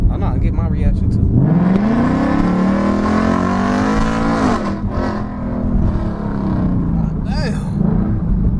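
A Ford Mustang GT's engine revs hard and accelerates, its loud rising roar holding steady and swelling again later, with a voice speaking over it near the start.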